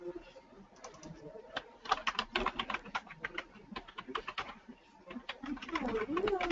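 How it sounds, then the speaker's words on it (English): Computer keyboard typing during a webinar comes as irregular clusters of quick, fairly faint keystroke clicks over quiet background, with a soft cooing sound in the mix. "I can hear some typing"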